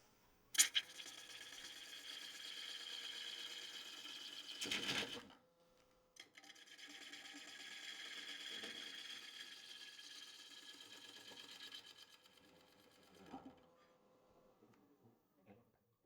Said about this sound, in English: Nice cuts, sharp tool. This is very dry, very hard madrone, and it's just cutting like butter.